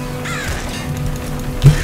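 A crow enemy from the video game Nuclear Throne gives a harsh caw over a steady droning game background, followed by a sharp thump near the end.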